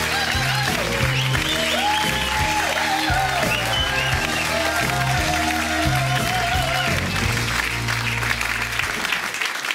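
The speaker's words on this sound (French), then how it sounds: "On peut l'applaudir très fort, mesdames et messieurs." A live audience applauds with sustained, loud clapping that fills the room, layered over background music and a few faint voices, dropping away at the very end.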